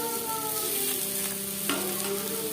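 Chopped okra with green chillies fries in a pan, giving a steady, close sizzling hiss with a faint background hum and one brief stir-scrape midway; nobody talks.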